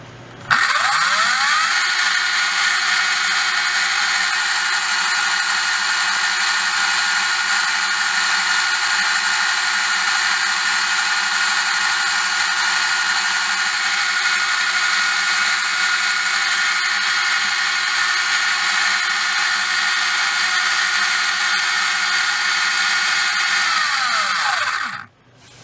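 REDS Racing VX4 17.5t brushless RC motor spinning up and running at a steady high pitch, a loud constant electric whine with a rising start and a falling stop after about 25 seconds, with no voices.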